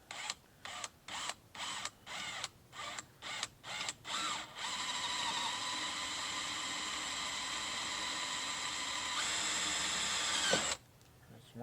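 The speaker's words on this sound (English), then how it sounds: "For 1024, use a 532 drill bit." A power drill with a 5/32 bit bores into metal while installing fabric doors on a CJ7 Jeep, first in a string of short stuttering bursts, then one long continuous whine that climbs in pitch before stopping abruptly.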